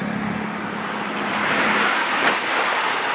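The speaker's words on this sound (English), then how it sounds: "Alright, 5-cylinder motor." A 2000 Volvo S70 five-cylinder engine idling, a steady, fairly loud broadband mechanical hum with a faint low drone and a brief click partway through, with no talking.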